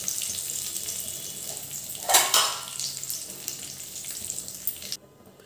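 Curry leaves dropped into hot oil for a Marathi bhadang tempering, giving a brief loud burst of sizzling and spitting that settles into a steady crackling fry, with no talking.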